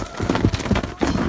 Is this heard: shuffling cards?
no